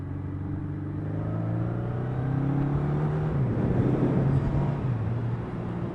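An old two-stroke motorcycle engine passes nearby, its buzzing note sliding in pitch as it revs and settles, mixed with road rumble and heard alone without voices.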